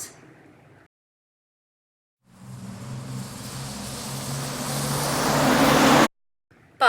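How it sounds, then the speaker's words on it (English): A road vehicle engine, given as a bus, rumbles low and builds steadily louder over several seconds as it draws near, then cuts off abruptly. "bus,"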